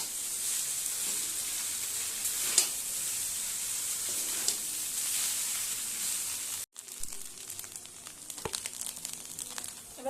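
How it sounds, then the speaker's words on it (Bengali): Chowmein noodles sizzle and fry in a pan as they are stirred, a steady close hiss with occasional scraping clicks, continuing without talk. "এবার ভালো করে নাড়িয়ে নিতে হবে।"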